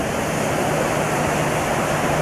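Rough surf breaks close by at a beach shortly after rain, a steady loud wash of rushing water with no pauses.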